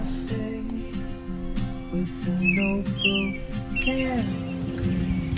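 Outdoor birdsong from a wildlife and birding recording, with several short bright chirps and whistled calls standing out over a steady low hum and background noise.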